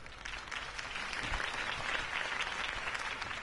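Crowd applause inside the Batman: The Telltale Series video game, a steady, dense wash of clapping that holds at an even level for several seconds, somewhat distant and with no voices over it.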